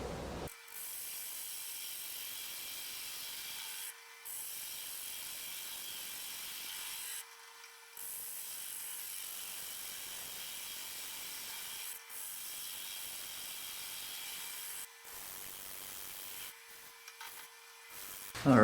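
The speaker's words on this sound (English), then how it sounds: "I got everything turned out, sanded down to 320." A large wooden salad bowl spins on a woodturning lathe under a steady motor hum, with soft rubbing and rasping sanding strokes broken by several short pauses.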